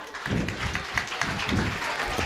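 An audience at a school annual function and prize distribution gives steady, dense applause for a costumed politician character, sustained and fairly close.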